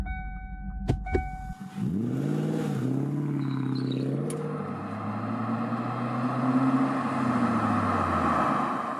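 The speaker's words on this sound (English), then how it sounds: "This is the kind of sound a fast car is supposed to have." A loud Panoz roadster engine with no mufflers revs up from idle and holds a rough, throaty roar, preceded by a few sharp clicks.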